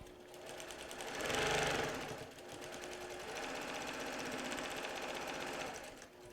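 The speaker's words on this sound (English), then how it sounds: "This sewing machine is very fast" A sewing machine stitching quilt fabric runs in fast bursts, its rapid mechanical stitching rattle swelling louder for a moment, then settling into a steady whir with no talking.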